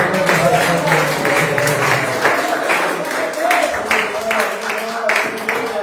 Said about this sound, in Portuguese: Vamos receber o pastor da igreja com as palmas